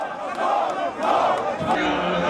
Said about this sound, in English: when the body appeared, the crowd went wild with emotion